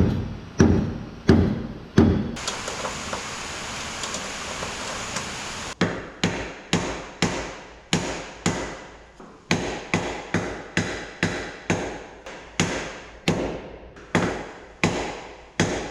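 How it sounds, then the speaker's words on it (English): A hammer taps on a block of wood held against the door hinge of a 1970 Chevelle. The blows are sharp and ring out in a steady series, with a loud scraping rasp in between. "get inside with the block of wood and a hammer, tap on this hinge, get it to slide forward"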